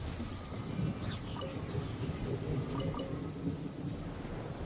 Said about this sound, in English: The thunder in the game right now sounds like real life thunder.